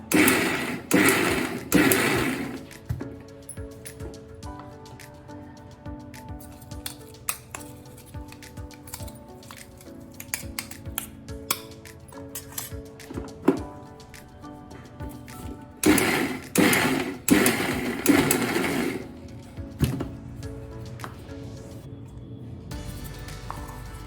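An electric mixer grinder coarsely grinds moong dal in two short pulsed bursts, one at the start and one later on. Quieter clinks and clatter of the jar fill the gap between them.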